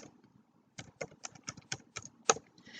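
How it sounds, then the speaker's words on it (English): Keys clack on a computer keyboard in a short, uneven burst of about eight close presses, one louder strike near the end, with no talking. "we're going to type in discount"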